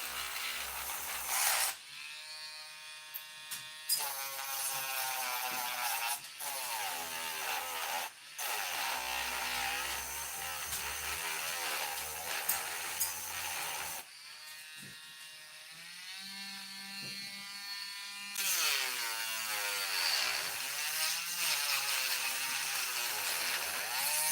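A high-speed rotary power tool hollows out a deer antler, its whine rising and dipping in pitch as it bites and eases off, in sustained bursts broken by brief pauses.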